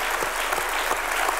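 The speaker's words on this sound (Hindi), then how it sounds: "बहुत बहुत तालियां बनती हैं." Studio audience applause on a comedy talk show, a brief, dense burst of clapping heard up close.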